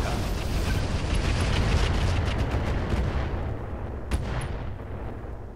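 Missile launches and explosions in the tactical game Battalion Supply: sustained dense booming rumble with repeated blasts, loud and continuous, one sharper hit near the end before fading slightly.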